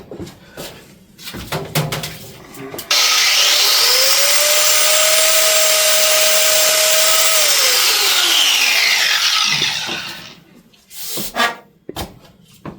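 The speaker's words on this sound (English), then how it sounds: "Not the cleanest cut because apparently that's a grinding disc." An angle grinder fitted with a grinding disc bites into the end of an oil cooler hose, whining loudly and steadily for several seconds before spinning down, framed by shorter handling noises on either side.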